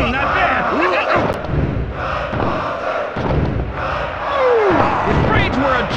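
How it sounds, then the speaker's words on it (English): A loud arena crowd roars and cheers in the WWE Attitude wrestling video game, with heavy thuds and slams from the ring and commentator voices talking over the noise. "Check out this crowd! They're on their feet! They're so loud I can hardly hear you"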